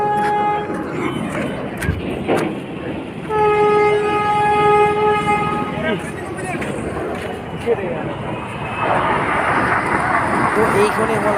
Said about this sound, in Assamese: ইদি আমাৰ ট্ৰেইনখন তলেদি যায়